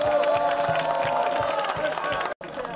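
A crowd cheers and claps in welcome for Kaiser Wilhelm II, a dense, steady wash of applause with some voices mixed in, running continuously before a brief dropout near the end.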